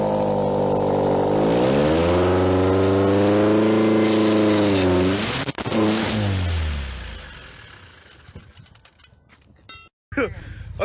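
A car engine cranks and fires into a loud, rising rev that holds steady, then sags and fades away before a brief cut and restart near the end, with a voice talking over it.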